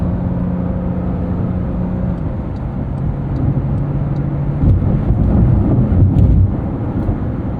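Porsche 911 Dakar rolling on all-terrain tires over uneven pavement, a steady loud broadband tire and road roar with low engine drone, swelling briefly as the surface roughens.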